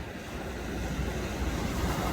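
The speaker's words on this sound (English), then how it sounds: "The sandbanks are very deceiving. The waves stand up very quickly." Ocean waves break on shallow sandbanks at a river-mouth boat race, forming a steady, dense roar of surf mixed with wind noise, with no voices.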